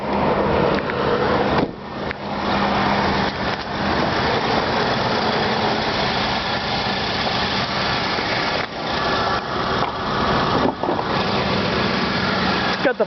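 A 2005 Ford Expedition Eddie Bauer with the 5.4 liter 3V Triton V8 idles with the hood up, giving a steady, close engine hum that runs throughout with only a couple of brief dips.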